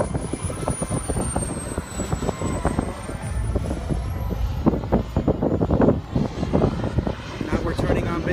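Piston engines of a Douglas A-20 Havoc warbird drone steadily and loudly through the whole stretch in flight while turning for final approach to landing, a continuous rumble with no speech heard.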